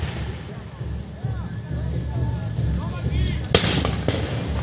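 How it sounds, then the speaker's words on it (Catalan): Shots crack during a reenactment of the siege of Tortosa, with a sharp loud report near the end and scattered pops over crowd murmur and voices talking. "Continua l'intercanvi de trets"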